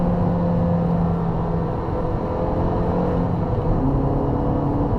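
Honda Civic Si engine heard from inside the car: a loud, continuous low rumble with a steady droning tone that shifts pitch slightly as it pulls, with no talk over it.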